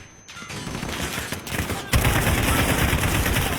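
Continuous automatic gunfire from the video game Call of Duty: Modern Warfare (2019) rattles loud and dense, breaking briefly before a heavier burst resumes, with no talking.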